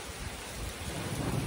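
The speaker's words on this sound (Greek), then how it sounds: "Βρέχει και αστράφτει κιόλας." Steady rain pours during a thunderstorm, a dense broadband wash that grows slightly louder, with low rumbling thunder underneath, close and continuous with no talking.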